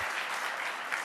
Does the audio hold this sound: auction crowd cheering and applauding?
yes